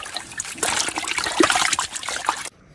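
Laundry being rinsed with clean water at a campsite, a close splashing trickle of poured water that runs for a couple of seconds and then stops abruptly.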